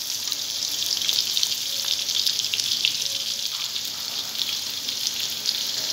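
Potato nest kebabs shallow-frying in hot oil, a steady, dense crackling hiss that stays even and close throughout with no pauses.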